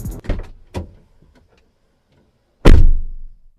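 A car door slams shut once, loud and close, with a heavy thunk after a few softer clicks and shuffles as someone climbs out of the car.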